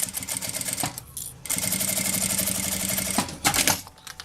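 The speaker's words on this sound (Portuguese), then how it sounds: "costura do lado do tecido, tá? Não fica enroscando, vai bem devagarzinho." A sewing machine stitches along the fabric edge next to a plastic lining on a small oral-hygiene pouch. It runs steadily up close, pauses briefly near the start, then resumes a long run before stopping.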